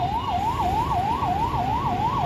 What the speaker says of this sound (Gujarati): એમ્બ્યુલન્સે હલવાઈ ગઈ છે જોવો મિત્રો.